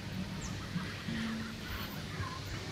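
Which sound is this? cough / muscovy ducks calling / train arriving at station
muscovy ducks calling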